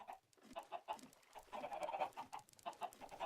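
Chickens cluck busily at a chicken farm in the video game Minecraft, a run of repeated close clucks in quick, irregular bursts.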